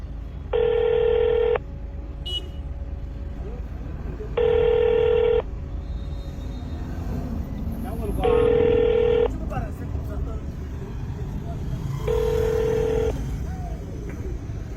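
Telephone ringback tone on an outgoing call to a phone operator: four evenly spaced ring bursts, each about a second long, with roughly three seconds of quiet between them, heard under low background noise.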